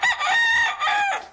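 A rooster crows loudly and up close, one drawn-out cock-a-doodle-doo call with a brief break in the middle, standing alone without talk.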